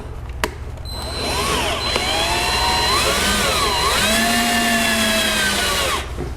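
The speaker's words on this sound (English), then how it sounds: "We don't want to drill too much. It doesn't need to go through the panel." A power drill bores into a BMW F30 interior door panel, a loud, close, whining drone with shifting pitch that rises and dips as it cuts, running nearly continuously before stopping.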